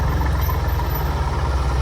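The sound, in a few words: tractor engine passing by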